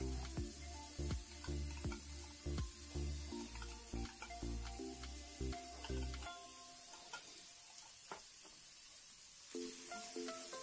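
Corned beef (carne norte) frying in a pan, steady sizzle with intermittent stirring scrapes and clinks of a utensil against the pan, close and moderately loud, no talking.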